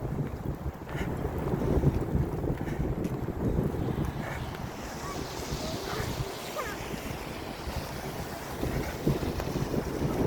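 Wind gusting outdoors in snowy Canada, a steady broadband roar with microphone buffeting that rises and falls continuously for the whole stretch, loud and close with no other clear sounds.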